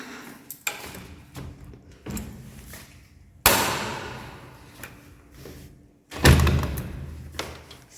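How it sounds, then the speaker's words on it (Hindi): A few sharp wooden clunks and thuds, with one loud bang midway and another heavy knock near the end, like a door being handled and opened nearby. "मैंने दरवाज़ा खोला"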